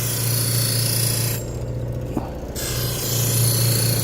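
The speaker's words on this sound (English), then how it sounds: "This is a 1000 grit Scotch-Brite wheel." A Japanese kasumi knife is pressed to a 1000-grit Scotch-Brite wheel, giving a steady motor hum and a grinding hiss that drop away briefly with a small click before resuming, close and continuous.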